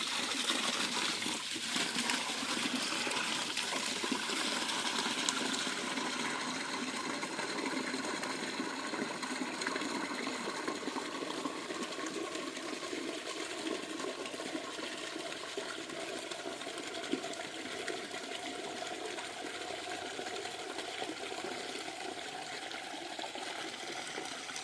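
Water poured onto stone quicklime being slaked for a chicken farm, a steady loud rushing and hissing wash that continues for the whole stretch, the early part brighter and harsher.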